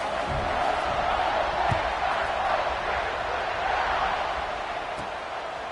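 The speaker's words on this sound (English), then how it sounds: "this crowd is feeling themselves after that last drive" Football stadium crowd roaring after a scoring drive as the kickoff unit takes the field, a dense, steady wall of distant cheering and whoops that holds for several seconds.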